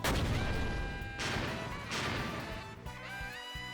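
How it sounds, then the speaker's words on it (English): A series of heavy explosions rocks the ground, with repeated booming crashes arriving in waves, loud and rumbling with debris-like clatter. "a series of explosions rocks the ground"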